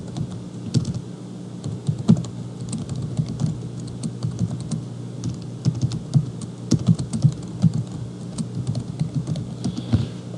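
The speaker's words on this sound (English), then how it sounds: "So I'm just going to type this in." Steady typing on a computer keyboard, quick irregular key clicks running continuously and fairly close with no talking.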